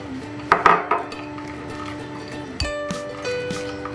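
Utensil clatters against a bowl while a crispy chicken coating mixture is stirred, a few sharp clinks up close early on, then quieter scraping with a faint tonal hum in the background.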